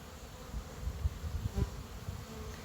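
Honey bees buzz around an open hive during an inspection, a low, faint, wavering drone with slight swells close by and no talk.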